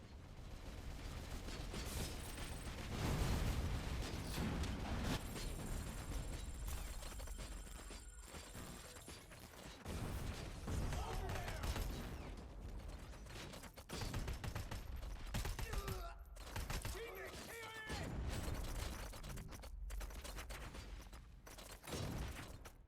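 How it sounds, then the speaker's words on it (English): Turrets firing in Robocop: Rogue City, a busy mix of repeated gun bursts, clanking mechanisms and impacts, moderately loud, with short pauses between volleys. "The flipping turrets. This is what kills us."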